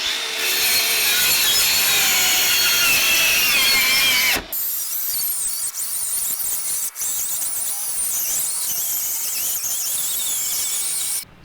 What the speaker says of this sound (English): So this circular saw makes quick work of a straight cut like this at a long distance.